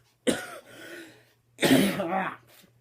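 Two harsh, loud coughs from a man with a bad cough, the first short and trailing off, the second longer and rougher with a throaty tail, separated by a brief silence.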